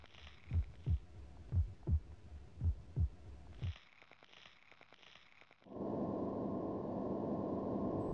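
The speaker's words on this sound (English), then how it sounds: "It's a little spooky sound. It sounds a little bit like an industrial sound." An eerie ambient loop in a video game map (Aliens versus Predator): a series of deep, thudding pulses, then faint metallic clanks, then a low droning industrial hum, quiet overall.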